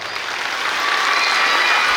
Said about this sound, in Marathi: टाळ्यांचा आवाज फार कमी येतोय.